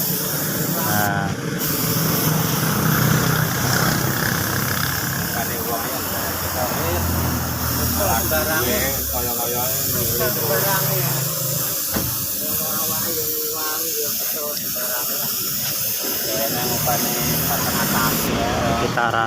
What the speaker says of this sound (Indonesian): kita langsung semprot saja cat warna merah candy-nya seperti ini